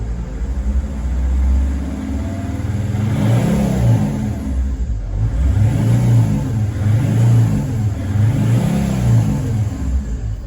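A T1N Sprinter van engine revs repeatedly as the throttle is blipped, rising and falling in four or five loud, close swells over a constant idle rumble, with a whirring hum underneath and no voices.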